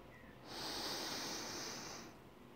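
A person draws in one long, deep breath through the nose during an evening breathing meditation, a soft airy inhale lasting about a second and a half in a quiet room.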